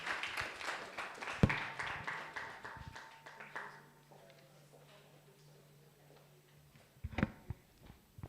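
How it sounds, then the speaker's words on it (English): Scattered applause from an audience at a forum on gender equality greets a speaker, a few seconds of light clapping that fades to quiet, followed by brief knocks and handling noises. "Let's welcome her with a round of applause."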